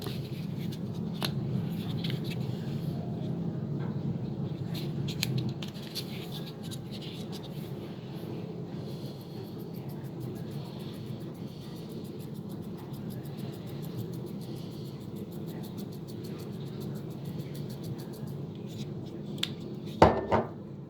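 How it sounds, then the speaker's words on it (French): A whisk stirring tomato sauce with warm water in a bowl, faint rapid clicking and scraping against the bowl over a low hum, ending with a sharp clatter. "avec ce fouet, vous allez délayer la sauce tomate avec de l'eau tiède"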